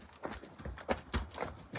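A horse with an abnormal hind-leg gait walks on a hard surface, its hooves giving a steady, slightly uneven clip-clop of close, moderately loud thuds across the stretch.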